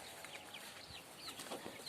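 Chickens and roosters in a small farm coop give faint clucks and soft calls against a quiet background, with a brief flutter of wings partway through.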